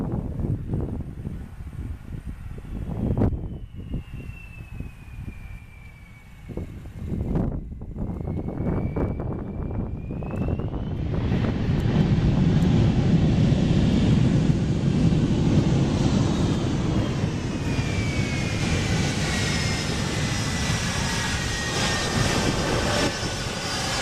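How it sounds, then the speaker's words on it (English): An Airbus A330-200 lands long on the runway and brakes at full force: quiet wind-buffeted rumble first, then a swelling, sustained roar of engines and reverse thrust with a high whine, loud and steady to the end. "A TAM Airbus A330-200 touches down too far along the runway and applies full braking to prevent an overrun."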